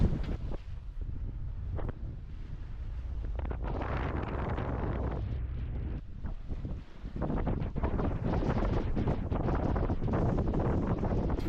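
Strong wind buffeting a sailboat at sea while tacking, a constant loud roar with gusty swells and rushing water underneath, and no voices.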